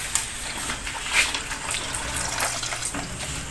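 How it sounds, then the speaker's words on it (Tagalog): Water drained off boiled rambutan seeds, a steady close splashing, trickling pour lasting a few seconds with no voices. "Gagawin natin ay tatanggalan natin siya ng tubig."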